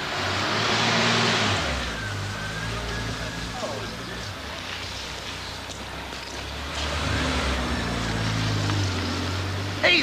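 A car engine revs and pulls away along a street, its mid-pitched drone rising and then fading, heard beneath people talking throughout.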